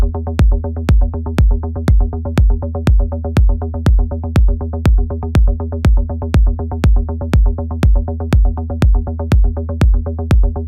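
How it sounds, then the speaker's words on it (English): A melodic techno bass with distortion added to its delay pulses in a fast, steady, even rhythm of short plucked notes. It sounds loud, gritty and harmonically rich, with no voices over it. "you can add distortion to the delay. Let me see how that sounds."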